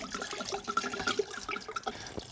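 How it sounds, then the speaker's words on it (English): Brine mixture is poured over a turkey in a container, giving a short splashing, gurgling pour of liquid heard up close. "we're going to take our brine mixture that we've mixed up and we're going to pour it on top"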